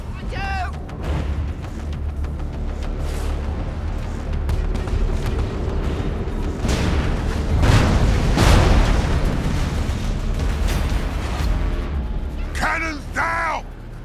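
Heavy explosions rumble as cannons are wrecked from inside in Warhammer 40,000: Dawn of War III, with booming blasts building to a loud peak midway while gruff voices shout at the start and end.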